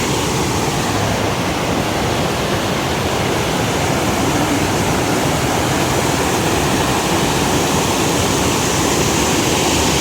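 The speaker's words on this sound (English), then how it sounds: "I feel like they're just flowing much faster and there's like rapids and stuff." A fast-flowing river with rapids on the Appalachian Trail rushes in a steady, loud, broadband roar that holds unbroken throughout, with no voices.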